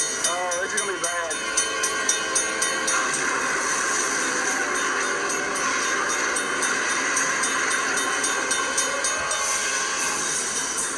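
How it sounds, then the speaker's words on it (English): A Conrail freight train grinding along under emergency braking with a sustained metallic screech of brakes, dense rumbling noise throughout, loud and close. "The conductor slams the brakes, desperate to get the train stopped."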